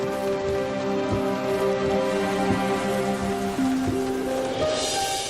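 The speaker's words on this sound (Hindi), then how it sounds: "ऐसी बारिश हो रही थी उस वक्त भी" Steady rain patters down across a surface, with a sustained tonal hum of music or a drone running underneath the whole time.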